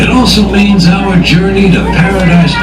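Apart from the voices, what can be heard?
No everyday noise stands out behind the speech.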